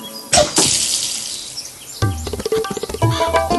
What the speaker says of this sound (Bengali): আপনার হাত তো এখন সাবানে ধোয়া পরিষ্কার